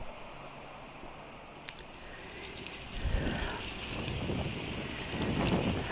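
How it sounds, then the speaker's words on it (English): Gusty wind in Washington, DC buffets the microphone in low rumbling bursts, growing stronger toward the end, with no voices. "some of the noise you hear in the background is the wind blowing"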